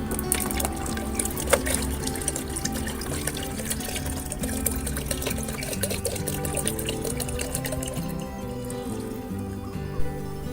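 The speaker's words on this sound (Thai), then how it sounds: "ใช้น้ำเปล่าประมาณ 4 ลิตร เทน้ำซาวข้าวลงไปทั้งหมดเลย" Rice-washing water is poured into about four litres of plain water, making a continuous splashing trickle that runs steadily for about ten seconds, close by and without talk.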